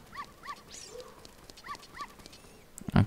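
A small dog in Zelda Ocarina of Time gives a run of short yipping barks in pairs, fairly clear over quiet game sounds, followed by a brief louder thump at the end.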